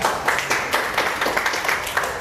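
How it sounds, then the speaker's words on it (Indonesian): Audience applause at a launch event in Medan for the MG4 EV electric car, a dense, steady wash of clapping from a crowd that fills the whole moment without letup. "Tepuk tangan buat kita semua."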